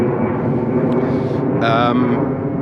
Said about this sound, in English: There's an airplane going over us.